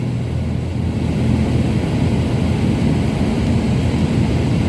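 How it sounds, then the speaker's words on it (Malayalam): A helicopter approaches near an air force training centre in Bangalore, heard as a steady, loud, low rumbling drone that holds constant throughout with no talk over it. "ഹെലികോപ്റ്റർ ഇങ്ങോട്ട് വരുന്നു, അടുത്തേക്ക് വരുന്നു."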